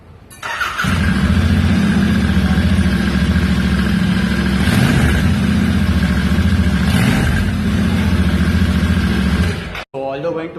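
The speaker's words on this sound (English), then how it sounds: "So now let's go towards the exhaust note of this vehicle." A Royal Enfield Interceptor twin-cylinder motorcycle idles with a deep, steady exhaust thrum, loud and close, holding an even beat for about nine seconds before cutting off abruptly near the end.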